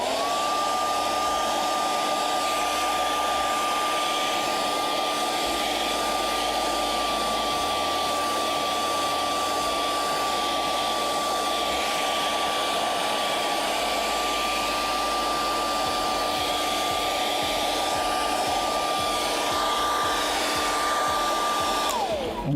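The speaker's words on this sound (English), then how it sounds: "We're gonna hit everything with a hairdryer." A hairdryer blows steadily over puppet-making craft work, a loud, continuous whooshing hum that holds for over twenty seconds with no break.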